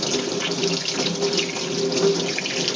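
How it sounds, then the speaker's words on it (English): Water gushes steadily from a kitchen faucet into a sink while tortillas are being prepared, a loud, continuous, close splashing stream with no talking. "This faucet, it's really no good."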